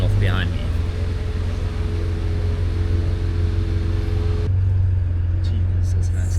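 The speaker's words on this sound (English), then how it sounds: "there's an M3 pulling off behind me" A BMW M3 pulls away behind, its engine a steady loud low rumble lasting several seconds, the sound dropping slightly as the car leaves; a voice briefly speaks near the start.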